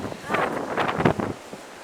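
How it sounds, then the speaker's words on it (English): Blizzard wind blows snow around, gusting and buffeting the microphone close up, while a voice murmurs faintly underneath. "look at the wind blow all the snow"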